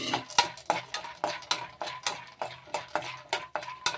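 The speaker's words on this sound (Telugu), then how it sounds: "స్టవ్ పైన ఒక ప్యాన్ పెట్టేసుకొని టూ టేబుల్ స్పూన్స్ ఆయిల్ వేసుకొని ఫస్ట్ అయితే పల్లీలు తీసుకోవాలి వేరుశెనగ పలుకులు వీటిని ఫస్ట్ ఫ్రై చేసుకోవాలి" Peanuts fry in about two tablespoons of oil in a pan on a stove, with a regular scraping, clattering rhythm of a spoon stirring them and a light sizzle underneath, close and moderately loud.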